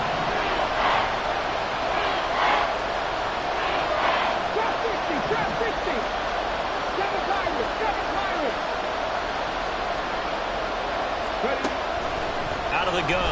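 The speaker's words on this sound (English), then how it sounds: "The crowd here in the Dome making things difficult." Stadium crowd noise inside a domed arena in the Madden 23 football video game forms a dense, steady roar with swelling cheers, while a commentator talks over it.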